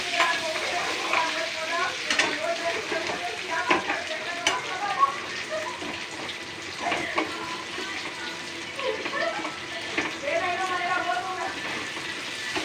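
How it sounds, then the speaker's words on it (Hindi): Onions fry in hot oil in a kadai for Sambalpuri kadai chicken, a steady close sizzle with scraping stirs throughout. "देखो तेलटा गरम हो गला यहाँ दे प्याज प्याज हाँ प्याज के पूरा लाल हवा तक भाजबे।"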